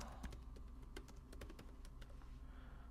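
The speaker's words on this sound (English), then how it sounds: "I can type my answer here." Soft, rapid key clicks from typing on a Chromebook keyboard, quiet and close, over a faint steady hum.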